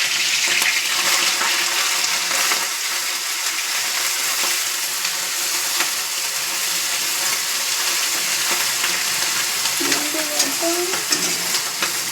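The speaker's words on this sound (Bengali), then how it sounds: "এবার আমি চিংড়ি মাছটা ভেজে নেবো" Prawns fry in a pan with a loud, continuous sizzle and crackle, close up, with faint scraping and stirring throughout and no voices.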